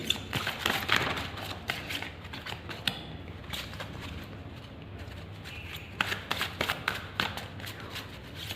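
Tarot cards are shuffled up close in uneven bursts of crisp flicking and riffling, with a short quieter pause in the middle before the shuffling picks up again.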